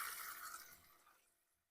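Water poured from above into the top reservoir of tall garden plants, a broad steady splashing rush that thins and fades toward the end.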